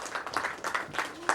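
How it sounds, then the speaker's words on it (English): An audience at a Crane Heights launch in Mbu claps for a guest, a short burst of close, irregular hand claps from a modest crowd. "A round of applause"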